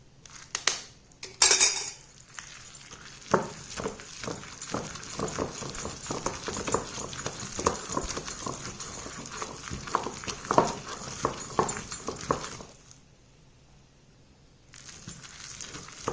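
Hot chilli chutney being ground by hand, Tirunelveli style, a close run of irregular knocking, crushing and scraping strokes on a hard surface, stopping abruptly near the end.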